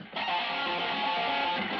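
Unmuted electric guitar strings ring out in a sustained, dense wash of tone that holds steady for a couple of seconds.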